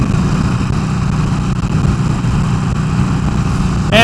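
Steady, loud engine drone and rushing wind from a 2019 Harley-Davidson Sportster Iron 883 XL cruising at highway speed in fifth gear on an unfaired bike, continuous with a brief bump at the very end.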